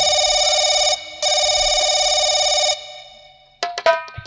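A telephone rings with a steady electronic tone in two long bursts separated by a short gap, close and loud, then cuts off before brief clattering sounds.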